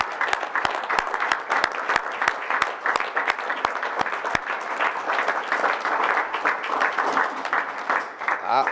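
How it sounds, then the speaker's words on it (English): A crowd at a tribal council meeting applauds the Jennings brothers, with a few sharp individual claps standing out early amid steady, moderately loud clapping and some voices. "Let's give the Jennings brothers a round of applause."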